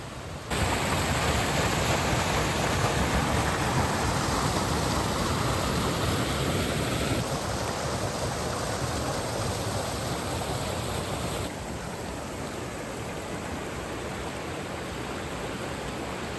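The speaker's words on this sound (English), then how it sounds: "That's a lot of water for this little stream." A small seasonal stream running high after heavy rain, a loud, dense, unbroken roar of rushing water heard up close, steady throughout with no talking.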